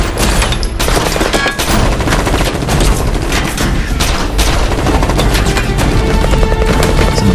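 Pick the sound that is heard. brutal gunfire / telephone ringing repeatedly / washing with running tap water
brutal gunfire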